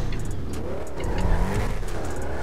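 A car engine revs and roars in the racing game GTA RP, with tire squeal mixed in, loud and close with fluctuating pitch over the brief burst.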